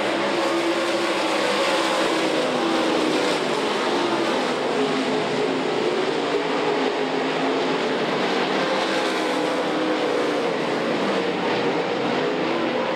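Late model race cars lap a track during the 2008 Lucas Oil Late Model Nationals at night. A loud, continuous engine roar fills the whole stretch with no talking.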